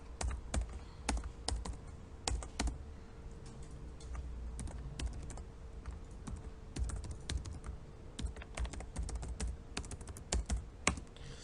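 Steady keyboard typing, with bursts of close, crisp keystrokes and short pauses, as a command is entered into a Linux terminal while setting up an Apache server. No voices.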